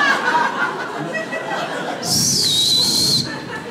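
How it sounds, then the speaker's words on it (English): Audience at a stand-up comedy special letting out a sustained high whistle over low crowd murmur and chuckling, lasting about a second in the middle of the noise. "You've been whistling me all night."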